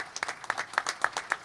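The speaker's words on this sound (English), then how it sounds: "Let's have a round of applause." Brief, fairly faint applause from an audience at an endurance racing announcement, with distinct separate claps in a loose rhythm.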